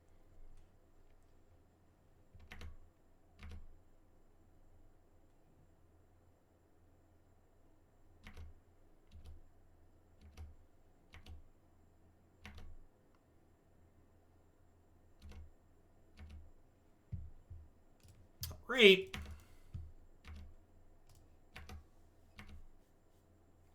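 Sparse, quiet computer keyboard clicks come in short scattered bursts separated by pauses during an online Modern card game session, with one brief spoken word midway.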